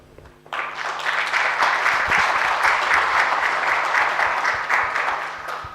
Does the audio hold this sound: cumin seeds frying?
no